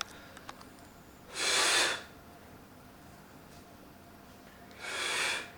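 Two sharp, airy breaths drawn through the nose during a breathing exercise, each about half a second long and several seconds apart, against a quiet room with faint clicks.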